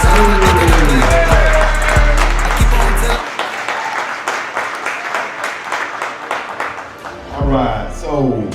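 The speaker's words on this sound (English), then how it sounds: "Give them a round of applause." Audience applause for youth sports league award winners at a banquet, steady clapping in a room that starts after a stretch of music and runs under a voice talking over it.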